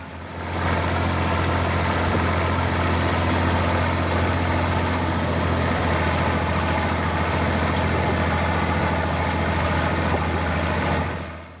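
A Minneapolis Moline A4T 1600 tractor with a 9.6 liter six-cylinder diesel runs steadily, a constant low engine drone that holds at an even level throughout with no talk.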